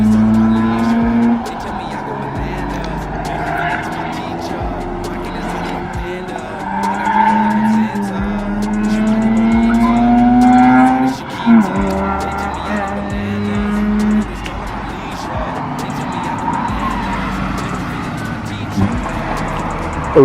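A car working hard along the twisting Mulholland road, with sharp throttle blips and a rising, falling engine drone, tire noise and wind blended in, close and loud, while voices talk over it.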